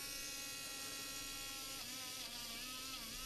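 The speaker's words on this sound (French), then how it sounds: "Dremel. Ça nettoie parfaitement toutes les pièces métalliques." A small Dremel rotary tool fitted with a little brush whirs steadily while cleaning rust off metal parts, a continuous high, close buzzing drone with slight pitch wavers as it presses on the metal.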